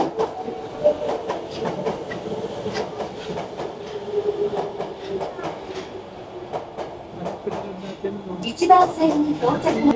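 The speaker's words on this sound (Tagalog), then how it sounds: "darating ang train ng 2:36" A train pulls into a station in Osaka, its wheels clattering in a steady rumble with rhythmic clicks over the rails. A brief higher-pitched tone comes near the end, and people talk nearby over the noise.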